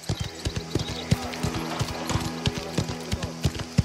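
Horse hooves clip-clop steadily on the ground at a stable in a mafia-era video game, a regular close rhythm of sharp knocks with faint background ambience.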